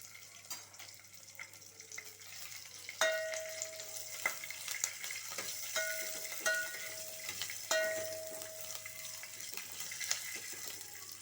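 Onions dropped into a hot pan for a capsicum curd sambar, frying with a steady close sizzle while a utensil clinks and scrapes against the pan at intervals, no speech.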